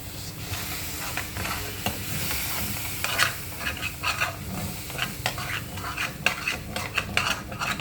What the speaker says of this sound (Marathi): आणि थोडंसं मी छोले उकळलेलं पाणी टाकत आहे मसाले शिजण्यासाठी